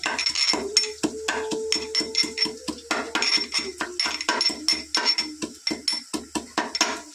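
Chopped garlic fries in a nonstick pan in a little oil while a spatula knocks and scrapes quickly and repeatedly against the pan, loud and close, over a faint sizzle.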